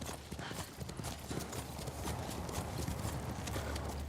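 Horse hooves in Ghost of Tsushima, a steady clip-clop of a ridden horse moving at pace, continuous and fairly close, against a dense outdoor background with no talking.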